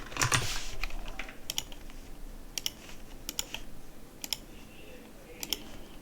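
Computer keyboard typed on in short irregular clusters of crisp clicks, close and fairly quiet, over a low steady room hum.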